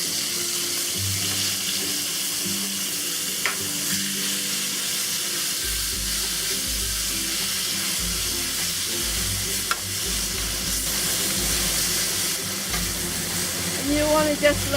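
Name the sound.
fish fillets frying in hot oil in a pan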